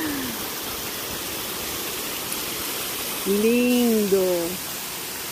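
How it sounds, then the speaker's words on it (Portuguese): A small waterfall at Cachoeira Cabeleira in Rio Verde, Goiás, gives a steady, close rushing hiss of falling water throughout. A voice speaks briefly over it. "É uma cachoeirinha pequena, mas a grande tá lá, ó."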